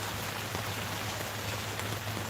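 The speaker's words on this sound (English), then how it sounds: "I'm sitting out in the rain again." Steady rain patters on a surface in a dense, even hiss with a low hum beneath it, continuing without pause and with no voices.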